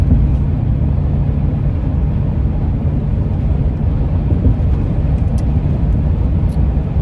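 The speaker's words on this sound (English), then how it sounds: "So the traffic is not that bad." Steady road traffic rolling past nearby, a continuous low rumble of car engines and tires holding even loudness throughout, with no voices and only faint higher hiss over the drone.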